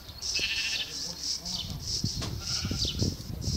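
Sheep bleating in a video game island survival session, repeated short bleats close by over a steady background while a person talks.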